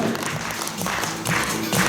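An audience at a republican folk and amateur vocal ensemble contest gives steady applause, a dense wash of many hands clapping that swells and sustains throughout.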